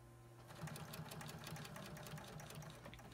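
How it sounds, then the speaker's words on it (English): A sewing machine stitches a trouser welt pocket, its steady, even, quietly humming run of rapid stitches continuing through most of the stretch after a brief start. "first we're going to sew again on this line of stitching that we used to sew the welt to"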